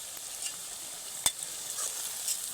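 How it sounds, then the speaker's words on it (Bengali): Ground spices including cumin powder frying in hot oil while being stirred for palong chicken, a quiet steady sizzle with light scraping and one sharp tap of the utensil. "এইবার তেলের মধ্যে মশলাটা দিয়ে 1 মিনিট মতো নেড়ে নেব।"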